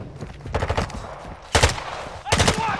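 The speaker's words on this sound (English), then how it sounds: "Somebody keeps shooting at us." Bursts of automatic gunfire in a multiplayer shooter game, three loud, close volleys of rapid shots separated by short pauses, with faint background sounds between.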